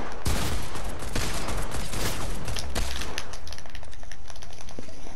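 Rapid bursts of gunfire from a pump shotgun and a Desert Eagle in the video game Fortnite crackle loudly and densely, with the heaviest shots near the start before thinning out.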